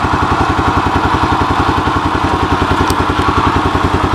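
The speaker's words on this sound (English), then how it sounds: "it kick-started like on the first try, so I figured while it was running, why don't we take it for a quick ride" A 1985 Honda TRX250 ATV engine runs steadily during a ride, its close, loud, rapid single-cylinder thumping beating in an even, unbroken rhythm throughout.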